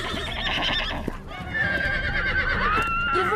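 Cartoon horses neigh and whinny in drawn-out, wavering cries over a galloping herd, with hooves thudding rapidly beneath and more whinnies rising toward the end.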